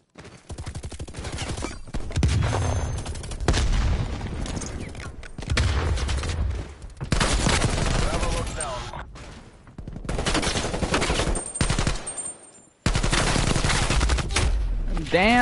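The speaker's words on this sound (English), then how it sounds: "Hostile artillery targeting active." Hostile artillery fire in the shooter game WarZone: dense bursts of rapid gunfire and heavy booms come in loud clusters separated by short quiet gaps, close and forceful, with no talk over them.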